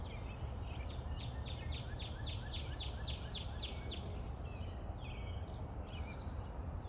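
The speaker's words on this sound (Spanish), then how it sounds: "qué bonito se escucha que cantan los pájaros" A bird sings a quick run of repeated descending chirps, then a few looser calls, over a steady low rumble of background noise.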